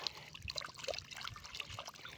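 Sea water trickling and splashing softly as sand is rinsed off shells at the seashore, with small irregular drips and dribbles, close and fairly quiet throughout.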